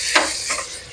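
Onion and peas frying in a pan, a close steady sizzle with a brief stirring scrape near the start, short and continuous.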